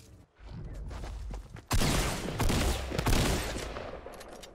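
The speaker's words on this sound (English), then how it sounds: "oh, I'm getting shot at" Dense bursts of rapid video game gunfire, several volleys overlapping and fairly loud, with a brief quieter stretch near the start and no talking.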